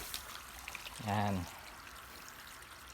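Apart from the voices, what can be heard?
water from garden hose filling azolla container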